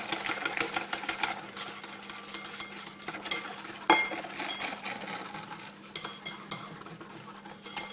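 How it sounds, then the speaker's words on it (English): Steady metallic whisking of egg yolks, scraping against a bowl as liquid is poured in, continuous and close, with occasional clinks of utensils. "Whisk it around, pour in a bit more."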